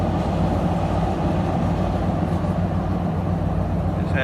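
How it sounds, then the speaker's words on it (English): A train passing by, producing a continuous loud low rumble and rolling roar that holds steady for the whole stretch, with no talking. "now you can watch the train go by"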